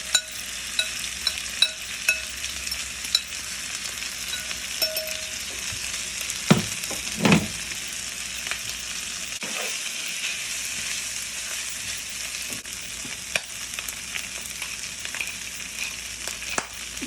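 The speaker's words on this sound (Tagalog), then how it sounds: "add our pork belly and pig ears too" Pork belly and pig ears fry in a pan for sisig, giving a steady sizzle broken by a few clattering stirs.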